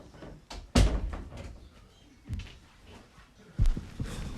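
Door handled indoors: a sharp knock-like thud, then further clunks and a heavier bang spaced a second or so apart, close and loud against quiet background.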